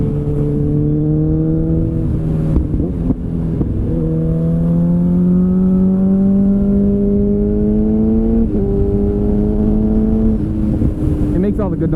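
Motorcycle fitted with an SC Project oval carbon exhaust, close and loud, its steady throaty drone rising in pitch through a few rev swells with brief dips between them.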